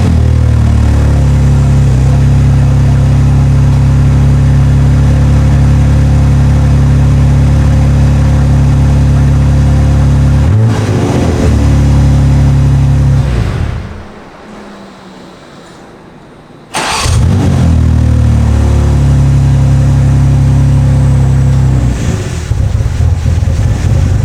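A BMW G80 M3 fitted with a flex fuel kit runs loud and steady up close, then cuts out for a few seconds and restarts, settling back into a heavy, droning idle.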